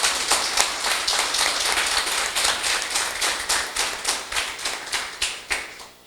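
A church congregation claps during a worship service, steady broadband applause with quick rhythmic hand claps throughout, fairly close and filling the room with no voices over it.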